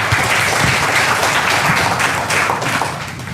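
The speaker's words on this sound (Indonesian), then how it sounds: "Tepuk tangan dulu buat kita semua yang pengen muda-muda ya" Audience at a health talk breaking into applause, a loud, full burst of many people clapping that stays strong and eases slightly near the end.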